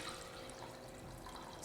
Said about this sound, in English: Fill that up with some water.